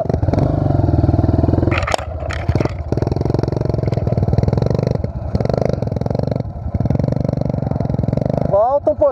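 A Pro Tork TR100F mini motorcycle engine revs hard and loud close by, holding a steady roar that briefly drops and picks up again, with a voice calling out over it.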